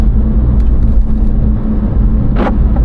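Porsche 911 or Boxster sports car of the 997.1/987.1 generation rounding a roundabout, a steady low engine rumble with road noise heard from inside the cabin throughout, a brief rustle near the end.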